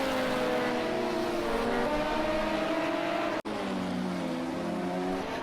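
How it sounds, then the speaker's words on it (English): A Sarco S2 LMP2 prototype race car in a sim racing game holds a steady, high engine whine as it exits the final corner. The pitch shifts with gear changes, and a brief dropout comes midway. "Coming out of the last corner, turn number 11, this is the race leader Marius."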